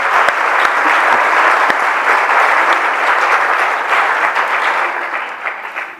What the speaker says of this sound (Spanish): Jo, francament, demanaria inclús un aplaudiment per aquesta manera clara de dir les coses al govern espanyol.